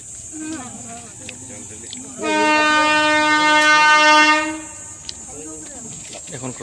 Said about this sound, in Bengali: এখন ক্রসিং পড়েছে, ট্রেন আসছে